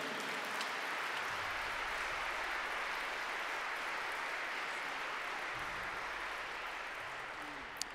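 A church audience applauds a young man, a broad, even wash of clapping that sounds fairly distant and soft and holds steady for several seconds before slowly fading.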